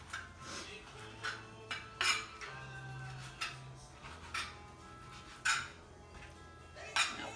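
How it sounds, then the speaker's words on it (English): A knife chops bacon roughly on a board in a home kitchen, giving sharp irregular knocks about once a second, close and fairly loud. "So you're just gonna take your bacon, just do a rough chop."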